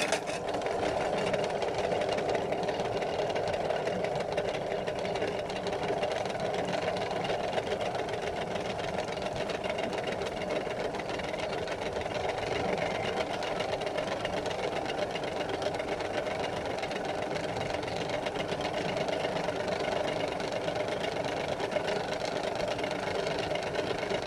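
A battery-powered toy washing machine spins with a continuous buzzing motor hum and rattle, steady and close for the whole stretch with no talking.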